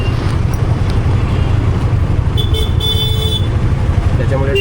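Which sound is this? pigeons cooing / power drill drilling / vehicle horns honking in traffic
vehicle horns honking in traffic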